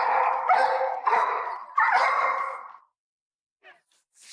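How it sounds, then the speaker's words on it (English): A pug close by gives several drawn-out, rumbling growl-whines in quick succession, then falls silent before a few faint snuffles at the end. "Every time I touch you, you want to try to growl and snap at me."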